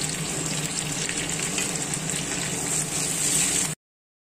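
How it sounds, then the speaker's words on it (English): Chopped garlic, carrots and cabbage sautéing over high heat for vegetable spaghetti, giving a steady, dense, close sizzle that holds evenly before cutting off abruptly. "Add 2 tablespoons chopped garlic. Then add carrots. Sauté well."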